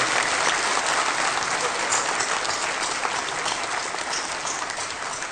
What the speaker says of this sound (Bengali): সবাই তাদের জন্য একটু জোরে হাততালি